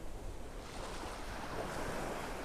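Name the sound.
ocean waves on the beach in North Naples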